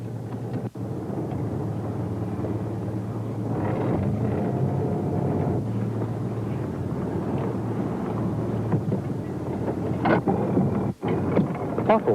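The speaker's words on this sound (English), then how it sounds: "when the Wendy Ann steams off under automatic pilot" The fishing boat Wendy Ann, a crayfish boat in Tasmania, steams out to sea under automatic pilot. It gives a steady, fairly loud low engine drone with rushing wind and water noise, and a few brief knocks near the end. Nobody speaks.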